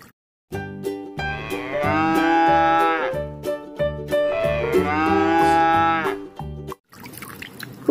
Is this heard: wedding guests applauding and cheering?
no